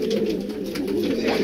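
Banarasi pigeons give a steady, low cooing murmur, close and continuous, forming a dense soft rumble throughout.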